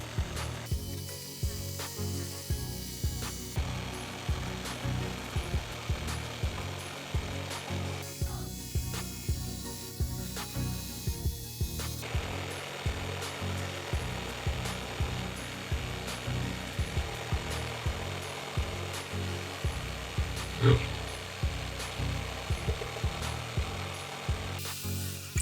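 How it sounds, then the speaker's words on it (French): A power jigsaw buzzes steadily through a wooden snowboard cutting template for a long stretch, with rhythmic chattering strokes and brief pauses in pitch as the cut continues. "il faut être assez précis à la scie sauteuse"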